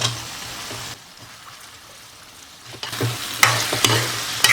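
Drumsticks sauté with onion and tomato in a pan, making a close, crackling sizzle with stirring scrapes that drops quiet for a couple of seconds, then returns louder with sharp clinks.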